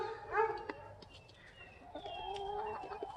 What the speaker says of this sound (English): There's Maddox coming up to check out the chickens.